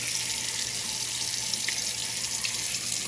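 Tap water runs steadily into a sink while a KitchenAid dishwasher part is rinsed beneath it, giving a constant, close, bright splashing hiss with no talking.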